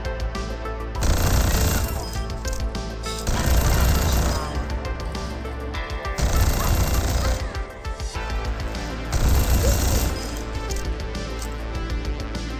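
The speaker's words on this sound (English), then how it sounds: "Sombra did not get a lot of changes, however her gun sounds are new." Sombra's new gun sounds in Overwatch 2, rapid loud bursts of automatic fire in repeated strings of a couple of seconds each, with brief lulls between, set against dense game sound.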